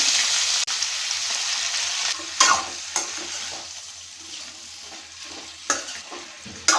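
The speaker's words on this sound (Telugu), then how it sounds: "ఒకసారి ఇలా కలుపుకోవాలండి" Eggplant pieces stirred in a hot pan over fried tempering of dried red chillies and curry leaves, a steady close sizzle with several sharp scraping strokes of the spoon, no voices.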